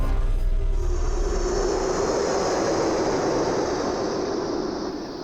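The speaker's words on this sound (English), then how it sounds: "I keep seeing these helicopters, and they're flying over top of me, but they're not seeing me." Search helicopters pass overhead above dense Everglades foliage, a loud, continuous rotor and engine roar that holds steady throughout and eases slightly at the end.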